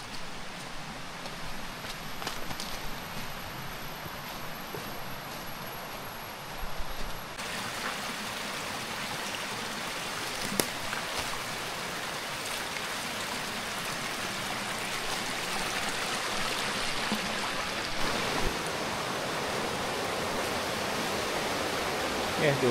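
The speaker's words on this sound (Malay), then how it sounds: "Tengok sungai tu, subhanallah, cantiknya sungai dia." A jungle river near a mountain trail rushes steadily in a continuous broadband wash, close and even throughout, with faint voices at times.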